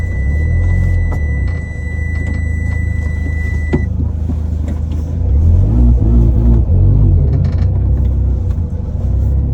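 A Mini Cooper S R53 fitted with a roll cage and bucket seats drives along, its engine droning loudly and steadily inside the cabin, with rises in revs and some rattles and creaks mixed in.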